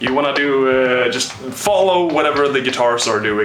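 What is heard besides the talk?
No everyday noise stands out behind the speech.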